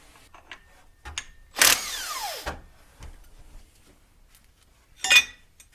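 A power tool whirs in one sustained burst with a falling whine while the water pump pulley bolts are removed from a Jeep Cherokee, framed by a few clanks of tools and a sharp metallic clatter near the end.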